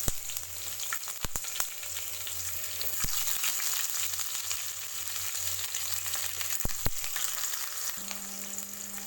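Onion added to hot oil already crackling with popped mustard seeds, chana dal and urad dal for a South Indian vegetable kichadi, giving a steady frying sizzle with a few sharp stirring knocks throughout.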